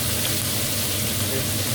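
Beef tournedos searing in browned butter in a hot pan, giving a loud, steady, dense sizzle that runs unbroken and close throughout.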